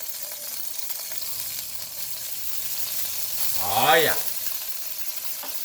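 Minced store-bought jarred garlic fries in vegetable cooking oil in a pan, a soft steady sizzle with stirring, while a voice briefly speaks over it.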